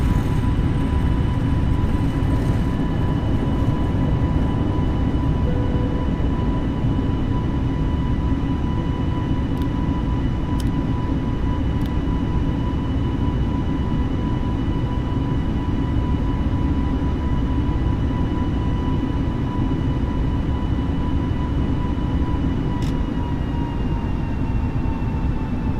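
Airbus A320-family airliner engines in Microsoft Flight Simulator at London Gatwick: a continuous, loud, steady roar with a sustained tonal whine, unchanging across the whole stretch, with no talking.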